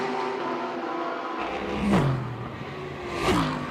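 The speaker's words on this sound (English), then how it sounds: "Great to hear these cars thunder down this front stretch, echoing those beautiful sounds of these motors through the grandstands here." GT America race cars roar down the front stretch at Indianapolis. A steady engine drone is cut by two loud, close pass-bys, each rising to a whooshing peak and then dropping in pitch as the car speeds away.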